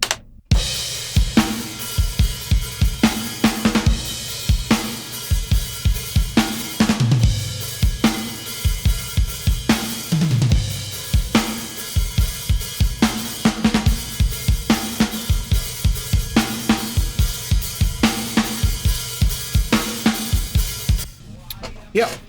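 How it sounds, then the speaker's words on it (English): Full layered recorded drum kit playing a steady groove, punchy kicks and snare hits repeating with cymbal wash on top, loud and continuous before stopping abruptly near the end. "when you add all these layers together, you have a drum sound like this"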